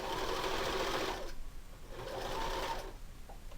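A sewing machine runs in two bursts, stitching the folded loop closed on a dowel flag, close and steady with a short pause between runs.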